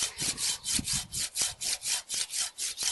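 Samurai GKC-300-LH Japanese garden saw cutting wood, about a dozen rhythmic rasping strokes at a steady even pace, close and clear with no talk.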